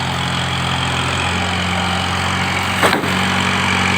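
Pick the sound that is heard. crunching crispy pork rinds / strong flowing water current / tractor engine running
tractor engine running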